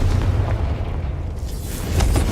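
Confringo spell blasts in Hogwarts Legacy: a sustained, loud fiery rumble with booming low-end bursts that swell again toward the end, no talk over it.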